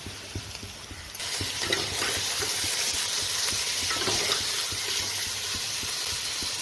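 Moong dal and rice fry together in ghee, making a continuous hissing sizzle that swells louder partway through, with faint ticking stirs underneath.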